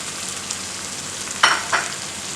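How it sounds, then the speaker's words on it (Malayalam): Chopped tomatoes drop into a pan of frying egg curry base, a steady sizzle and crackle running throughout with a couple of sharper bursts of spatter near the end. "ഇനി നമുക്ക് അടുത്ത ഇൻഗ്രീഡിയൻറ്റ് ചേർക്കുന്നത് ടൊമാറ്റോസാണ്"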